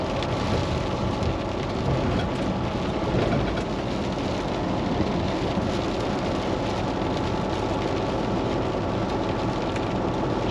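Heavy rain and wind with thunder during a storm, heard from a truck on the road: a dense, steady roar of rain and gusts lasting throughout, loud and unbroken, with no voices.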